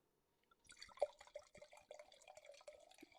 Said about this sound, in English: I got to pour it up again.